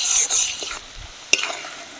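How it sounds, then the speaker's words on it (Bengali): Chopped onions frying in oil for a fish dish, a brief hiss of sizzle with soft stirring and one sharp utensil tap near the end, close and moderate. "পেঁয়াজটা আমি 2 থেকে 3 মিনিট ভালো করে ভেজে নেব।"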